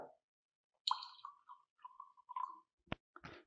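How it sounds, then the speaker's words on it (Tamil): Water splashes and plops into a glass beaker in short, uneven bursts, with a few brief gurgles and quiet gaps between them. "தண்ணியை நம்ம ஊற்றுறோம் பீக்கரில்"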